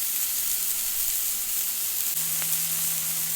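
Beef burgers sizzle on a Blackstone griddle as a steady, loud hiss of frying with a faint hum underneath, close and continuous with no talking.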